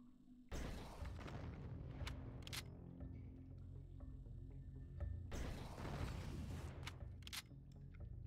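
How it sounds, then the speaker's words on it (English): Two heavy rocket launcher explosions in the video game Deus Ex, each a sudden booming blast with a long rumbling tail, the second following a few seconds after the first. "I think I can blow this out with a rocket launcher"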